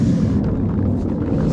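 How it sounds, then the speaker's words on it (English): An airplane passes overhead outside an abandoned house, a continuous low broad rumble that holds steady and fairly loud throughout. "Sorry for the airplane noise."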